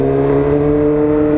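A 600cc motorcycle engine hums steadily at a constant pitch while being ridden, loud and close, with a smooth tonal drone and no talk.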